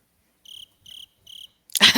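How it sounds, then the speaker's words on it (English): Cricket chirping used as a sound effect: three evenly spaced, clear high-pitched trilled chirps against silence, followed by a sudden loud burst of broadband noise at the end. "the crickets"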